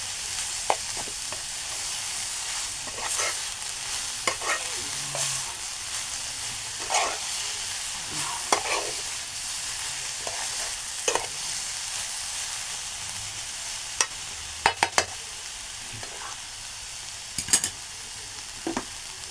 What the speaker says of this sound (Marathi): आणि परतून घेऊ.